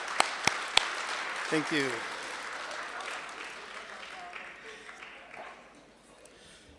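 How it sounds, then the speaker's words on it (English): Applause from an audience at a Democracy Bus Tour event in the Eastern Cape, moderate clapping that trails off into quiet while someone speaks briefly over it. "One last round of applause, colleagues."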